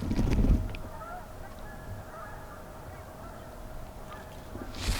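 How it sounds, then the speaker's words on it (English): Geese honk faintly in the distance, a thin scattered calling over a quiet outdoor background. "got some geese off in the distance."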